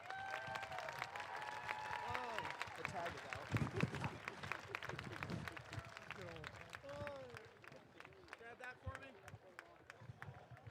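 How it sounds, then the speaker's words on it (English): Applause for Roger as he is handed a jacket at a Purdue Grand Prix race gathering: a steady, soft patter of clapping crowd that runs throughout beneath a voice talking over it. "So, a round of applause, please, for him while I give him the jacket"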